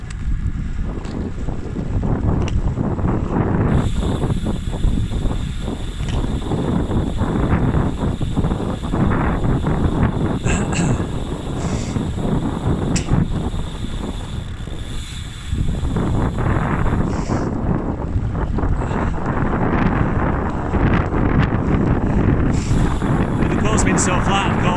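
Steady wind roars across a microphone on a flat open country road during a cycling road race near Wistow, a loud continuous buffeting rush with no breaks.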